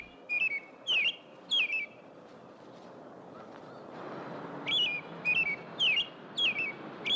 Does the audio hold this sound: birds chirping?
yes